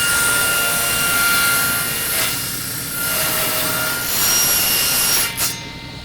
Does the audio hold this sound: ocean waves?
no